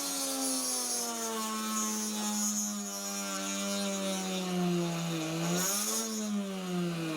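A small high-speed rotary drill with a 2mm bit whines steadily, its pitch sagging and recovering as it bites through a metal rivet on a die-cast Dinky Toy Ford Zephyr, loud and close with no voices.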